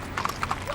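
Horses' hooves clip-clop on pavement as riders warm up at dawn before a trail ride down Colorado Boulevard in the Rose Parade, a few distinct close hoof strikes in an uneven rhythm over a faint background murmur.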